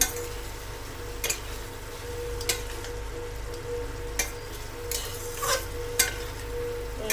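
Egg curry masala sautéing in a pan, a soft, steady sizzle broken by several sharp clinks and scrapes of a spoon stirring, with no talking.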